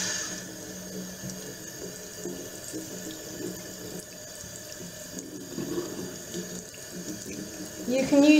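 Tap water runs steadily into a sink while makeup brushes, a concealer brush and an eyeshadow buffer, are rinsed, a continuous close splashing hiss with slight changes as the brushes move under the stream.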